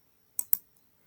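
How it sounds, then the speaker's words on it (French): Two quick, sharp clicks in close succession, close and crisp against silence, as a mouse selects the Next button while setting up a Facebook Ads campaign. "On va cliquer directement sur suivant."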